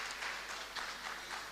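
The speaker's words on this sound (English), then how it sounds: "Let's give Ms. Senator another round of applause" Applause for a senator at a college certificate launch in Ekurhuleni, a brief steady patter of clapping from a modest audience, moderately loud throughout.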